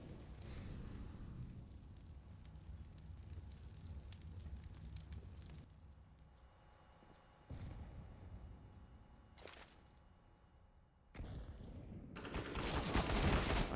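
Rapid P250 pistol shots spammed from a distance in a Counter-Strike match on Overpass, a steady rattle of gunfire amid game noise, with louder bursts toward the end.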